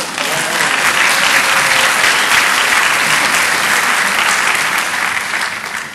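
Steady, dense applause from a conference audience fills the room for several seconds, loud and continuous, tapering slightly at the end.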